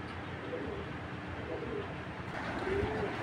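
Pigeons coo softly and close by in a short, continuous stretch of low, rolling calls over a faint background murmur.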